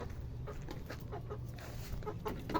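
Pet chickens clucking in short, repeated calls over a steady outdoor background, moderately close.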